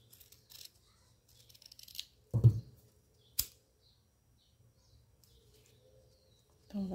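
Scissors snip the ends of ribbon while making a bow, a couple of sharp, brief cuts standing out from a quiet room, with soft handling rustles around them.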